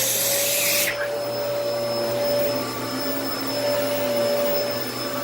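A Dyson DC14 upright vacuum cleaner runs steadily across a living room floor, its loud, continuous motor whine holding close and unbroken, with a brief burst of brush-bar hiss at the start.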